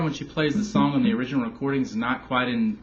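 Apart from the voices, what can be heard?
None of the usual background noises is heard.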